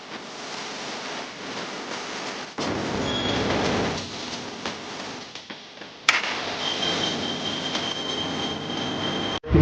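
An Ingco cordless circular saw spins its blade freely, producing a loud, steady high whir that shifts abruptly in intensity twice and carries a thin, sustained whine in its later part.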